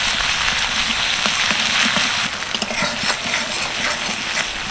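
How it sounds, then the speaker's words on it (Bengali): Asafoetida, cumin seeds, dried chillies, crushed green chilli and ginger frying in hot oil in a wok, a dense, continuous close sizzle and crackle with no talking. "1 চামচ থেতো করা কাঁচা লঙ্কা আর আদা হালকা একটু ভেজে নেব"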